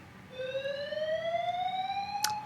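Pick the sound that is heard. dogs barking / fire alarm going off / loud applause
fire alarm going off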